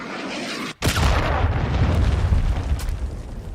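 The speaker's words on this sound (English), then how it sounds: "Hostiles launched a cruise missile." A cruise missile explosion: a sudden near, loud boom after a moment of steady background roar, then a long rumbling blast that tails off with scattered cracks.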